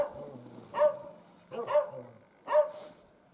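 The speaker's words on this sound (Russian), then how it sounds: "Вон собаки залаяли." Two chained dogs in a rural yard at the end of winter give three separate barks about a second apart, moderately distant, over quiet outdoor background.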